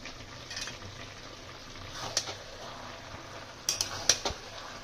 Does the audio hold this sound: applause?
no